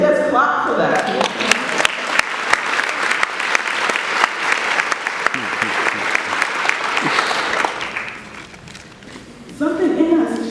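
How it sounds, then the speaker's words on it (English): An audience at a Girl Scouts Gold Awards keynote speech breaks into loud, sustained applause that gradually fades, with a voice speaking briefly before and after. "Let's clap for that."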